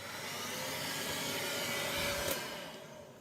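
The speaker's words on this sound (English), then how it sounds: "The heat gun. Right, we'll whack that on." Steady blowing roar of a heat gun running during a Chinese diesel heater home install, a constant airy whoosh at moderate level with no talk.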